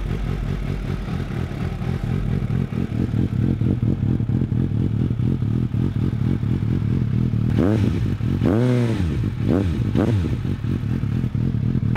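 Suzuki GSR 750 motorcycle engine running loud and close, a steady mid-pitched idle with several sharp throttle blips rising and falling near the end, heard alone.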